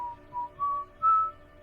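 A short whistled tune of the Pyro from the video game Team Fortress 2, a few clear rising notes in a brief melodic phrase, played alone.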